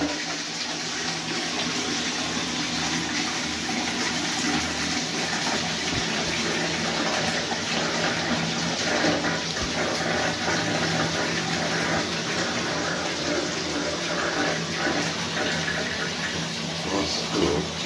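Toilet flushing aboard an older AS Magnia or Regal, steady rushing water throughout at moderate level, with no clear pauses.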